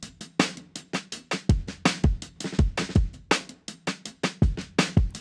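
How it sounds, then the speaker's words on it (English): Hip hop drum loop made in Ableton Live 11 without drum bus processing: punchy kicks and sharp snares and hats repeat in a steady, slightly swung groove, bright and a bit harsh, with no voices. "Without the drum bus, my drums sound like this."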